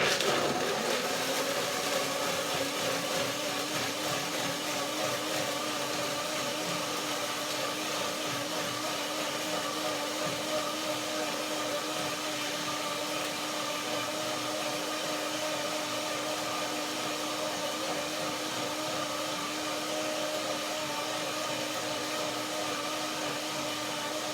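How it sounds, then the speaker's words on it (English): A kitchen blender grinds almonds with about a third of a cup of water, a loud, steady motorized whir with a constant hum that runs unbroken for the whole stretch with no voices. "I blended for some time to break down the almonds at the first step"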